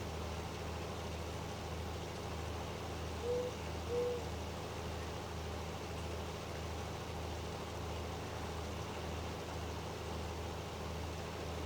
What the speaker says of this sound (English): I don't know why there's an owl hooting